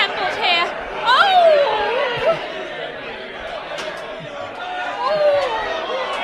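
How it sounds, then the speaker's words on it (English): Staged crowd brawl for a live sci-fi comedy radio drama: layered shouting voices and scuffling chatter with a few sharp cries, a continuous rowdy babble that rises and falls over several seconds. "fighting has broken out amongst the crowd you've assembled here"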